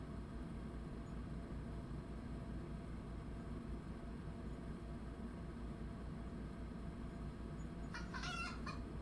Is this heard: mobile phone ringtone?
no